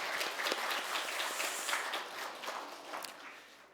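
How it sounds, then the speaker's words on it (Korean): A church congregation at a Sunday worship service gives a round of dense, distant applause that stays soft and gradually fades toward the end. "크게 영광의 박수를 돌리겠습니다"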